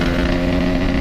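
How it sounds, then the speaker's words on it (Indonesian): Yamaha RX King two-stroke motorcycle with a loud aftermarket exhaust, heard close as a continuous raspy, buzzing engine drone on the road, without speech. "Ingat knalpotnya berisik, Kik."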